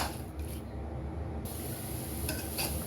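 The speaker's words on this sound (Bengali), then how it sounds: "এখন আমি নাড়বো, মিক্স করে নিচ্ছি" Ground turmeric, garam masala and mixed spices are stirred into a gravy in a pan, a steady sizzling hiss with a few soft scraping clunks of the spoon near the end.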